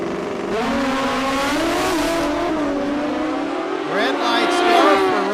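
Drag racing cars launching down the track at a drag strip, engines roaring loud and sustained as they accelerate away, with a rising whine near the end and a commentator talking over the noise.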